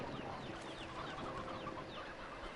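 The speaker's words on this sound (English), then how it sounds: "we have too many roosters in here" Roosters and chickens in the video game Slime Rancher 2 cluck in a steady, overlapping chorus of short calls, moderately loud and continuous throughout, with no talking.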